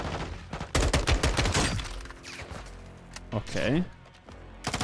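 Gunfire in Call of Duty Modern Warfare 2, a burst of sharp rapid shots followed by scattered single reports, close and loud, with a player talking over parts of it.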